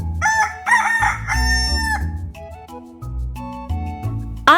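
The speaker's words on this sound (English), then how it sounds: "I see a feathered rooster looking at me." A rooster crows loudly in a long, drawn-out call, heard alone over a bouncy musical backing in an animated farm-animal story.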